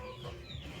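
Desi chickens cluck on a farm, a short, close burst of hen calls over a steady background.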